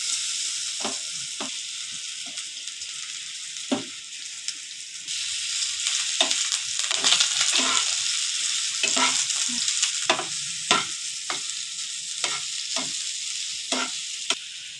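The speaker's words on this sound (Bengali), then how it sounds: "সোয়াবিনগুলো ভালো করে ভেজে নিয়েছি, ভাজা হয়ে গেছে" Marinated soybean chunks fry in oil in a pan, a bright steady sizzle broken by repeated scraping and stirring clacks of a spatula, close and loud with no talk.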